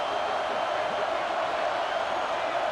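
Stadium crowd noise on a fourth down in EA Sports College Football 26, a steady broad roar of a large crowd sustained evenly throughout, with no distinct cheers standing out.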